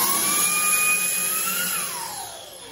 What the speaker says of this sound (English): This is a vacuum measurement tool. Okay, it's a vacuum machine.